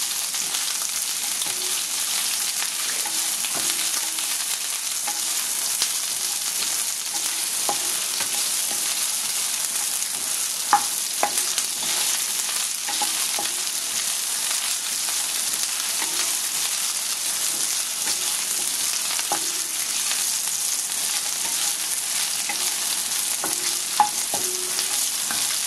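Sliced onions fry in hot oil in a pan, giving a steady, close sizzle that runs the whole time, with occasional light clinks and stirring scrapes and no talking.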